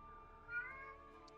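A voice imitates a cat's meow during a tabletop fantasy role-play session. A single soft, drawn-out meow rises and falls, faint and alone.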